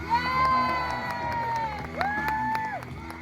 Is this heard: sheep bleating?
no